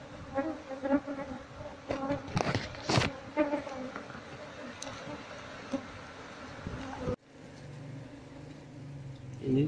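Apis cerana honey bee colony nesting in a traditional house, a dense insect buzz that rises and falls steadily at close range, with occasional louder passes near the ear, then a sudden shift to a lower, steadier drone.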